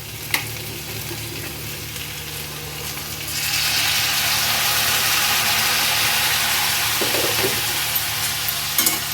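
Hot water poured into pumpkin frying for a vegetarian chhokka, then stirred: a low sizzle and a few clatters, then a sudden loud hissing surge that holds steady and close as the spoon moves, without speech.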